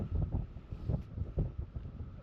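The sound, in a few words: wind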